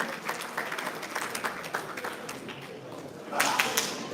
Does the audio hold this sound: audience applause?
yes